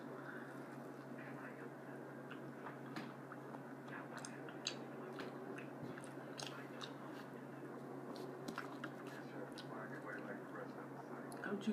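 Close, crunchy chewing and biting of homemade chicken strips breaded in pancake mix, with steady mouth sounds and small crisp crackles throughout, occasional soft speech underneath.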